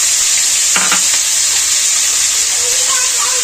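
Chopped onion goes into hot oil already frying whole spices such as cloves, cardamom, cinnamon and a bay leaf, making a steady close sizzle and hiss with a brief stirring clatter near the start.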